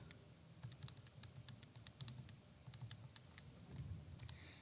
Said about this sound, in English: I can go to my table and I can type in all these values